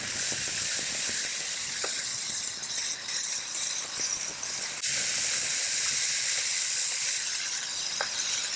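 Bacon strips sizzling on a 22-inch Blackstone Culinary griddle with Flexfold legs, set up outdoors on a driveway: a steady, fairly loud hiss and crackle running throughout with no talk.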